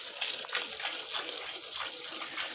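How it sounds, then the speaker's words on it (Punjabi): A strong stream of running water pours steadily, a continuous gushing rush at moderate distance that stays fairly even without pause. "ਹੁਣ ਵੱਜਦੀ ਧਾਰ ਹੈ ਤਸੱਲੀ ਨਾਲ।"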